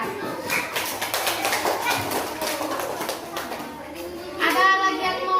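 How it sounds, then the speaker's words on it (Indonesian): Classroom applause from students for a group that just finished presenting in a civics lesson: a steady patter of many hands clapping for several seconds, with children's voices chattering underneath. "tepuk tangan untuk kelompok 2 yang sudah mempresentasikan hasil kerja mereka"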